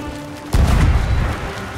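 A ship's cannon fires in the Sea of Thieves pirate game, a single loud, deep boom breaking a quieter stretch of faint tones, followed by a rumbling tail that slowly fades.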